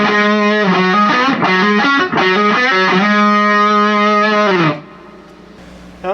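A heavily distorted electric guitar through a Rivera Venus 6 tube amp, channel 1 boosted with effects loop on, plays a run of sustained, crunchy chords and notes, loud and up close, then cuts off into a faint amp hiss.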